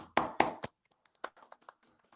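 A small audience applauds a performer after a reading: a few sharp claps up close, then scattered, fading hand claps, all fairly quiet.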